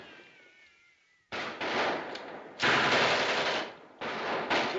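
Loud bursts of machine-gun fire from a 1938 film scene, several sustained rapid volleys after a quieter lead-in with a faint tone, each burst cutting off abruptly before the next.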